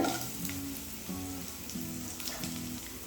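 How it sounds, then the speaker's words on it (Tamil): Chana dal, urad dal, coriander seeds, ginger, garlic, curry leaves and dried chillies sautéing in hot oil for kara chutney, a dense continuous close sizzle with crackles and stirring scrapes. "கருவேப்பிலை, காஞ்ச மிளகாய், இது எல்லாத்தையும் ஒரு ஃபியூ செகண்ட்ஸ்க்கு நல்லா வதக்கிக்கணும்."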